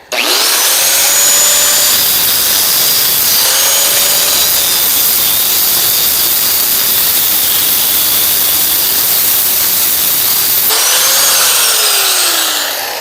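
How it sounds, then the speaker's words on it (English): An angle grinder bites into steel brackets on a riding mower frame, a loud, continuous high whine that dips briefly twice as the disc loads up and spins back up, running steadily for the whole stretch with no talking. "If not, I'll have to grab the other grinder."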